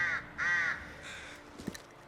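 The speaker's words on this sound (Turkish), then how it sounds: "Bir tane karga." A crow in the snowy wilderness of The Long Dark gives two loud, close caws, each a harsh drawn-out call, followed by a fainter shorter cry.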